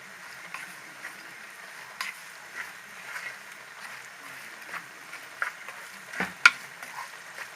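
A small spoonful of harissa fries in olive oil in a pan, a quiet, soft sizzle broken by faint stirring scrapes and a couple of light clanks.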